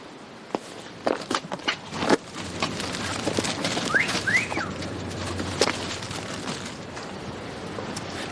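Outdoor bird whistling, a couple of brief rising whistled notes in the middle of the stretch, with scattered footsteps and light ambient noise around them and no talk.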